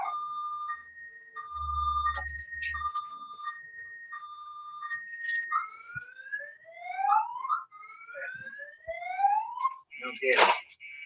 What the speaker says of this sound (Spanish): Sin embargo, disculpen, una alarma X. Eso aquí es común. Déjame apagar la alarma.